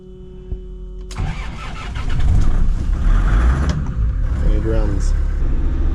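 A Land Rover Defender diesel engine cranks and catches, then settles into a loud, rough, close idle that carries on to the end.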